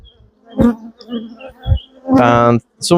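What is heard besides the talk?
honey bees buzzing around an open hive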